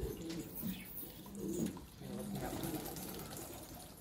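A Pakistani pigeon coos in low, repeated rounded calls close by, with other bird sounds and a bustling outdoor background around it.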